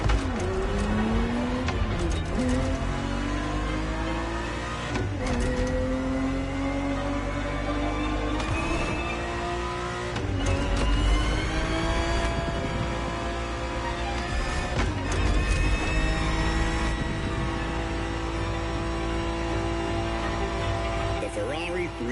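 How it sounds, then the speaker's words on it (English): A Ferrari 365 GTB4 engine drones and revs continuously through shifting gears while racing in The Crew Motorfest, rising and falling in pitch with brief tire squeal and game audio layered over it. "Ferrari 365 GTB4 is the perfect vehicle for you to experience Ferrari racing"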